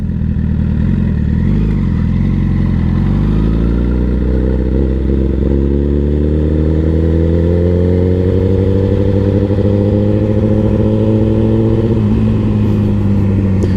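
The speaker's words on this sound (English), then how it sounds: "this time we're going to add just a little bit of throttle onto it" A motorcycle engine pulls away under light throttle, its low harmonic drone climbing steadily in pitch over about ten seconds before easing off; close, continuous, with no talking.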